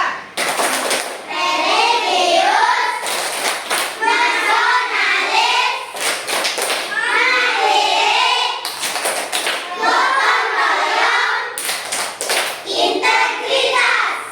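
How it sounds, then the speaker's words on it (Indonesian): Children perform the PPK clapping chant (tepuk PPK), with rhythmic bursts of hand claps and taps alternating with loud chanted group voices, repeated in several cycles. "selanjutnya tepuk PPK. Tepuk PPK."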